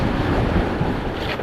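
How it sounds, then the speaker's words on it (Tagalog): Strong wind roars across the microphone over a steady wash of sea waves on the shore, loud and continuous with no voices. "Tingnan mo na mga alon"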